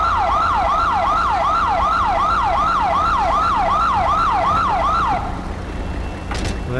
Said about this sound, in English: the siren's a bit loud, but it's the Chicago siren